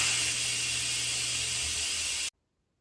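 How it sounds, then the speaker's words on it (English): An Instant Pot pressure cooker on quick release, venting a loud, steady steam hiss after cooking spinach; the blast stays constant for about two seconds, then cuts off abruptly into silence. "so let's quick release the steam."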